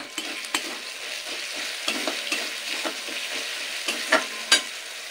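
Ginger and garlic paste fry with turmeric in a pan, a steady sizzle broken by repeated scraping strokes of a spoon against the metal, with a couple of sharper clinks near the end.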